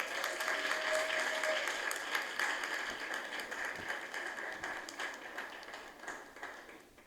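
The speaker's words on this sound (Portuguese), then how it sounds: "peço a todos vocês, generosamente, uma calorosa salva de palmas a toda a equipe envolvida nesta operação" A seminar audience breaks into sustained, dense applause from many hands at once, loud from the start and slowly thinning over seven seconds with no voices over it.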